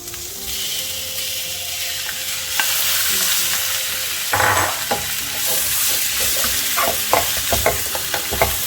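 Pork belly fries in spicy curry paste in a pan for an old-style eggplant curry, giving a steady, close sizzle broken by repeated scraping stirs and clinks of the utensil.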